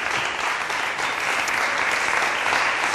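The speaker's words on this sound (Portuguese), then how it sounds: "Um aplauso." Steady, dense studio-audience applause on a Portuguese daytime TV talk show, loud and continuous with many hands clapping together and no break throughout.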